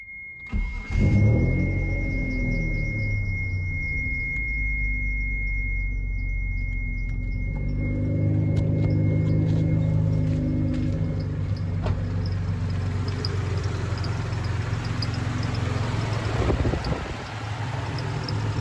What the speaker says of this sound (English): you reinstall everything and go ahead and start it up